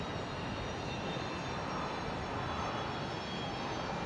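A Velocity Boeing 737-800 jet rumbles in to land on runway 19 left at Brisbane Airport, a steady, broad engine roar heard from a distance that holds constant throughout.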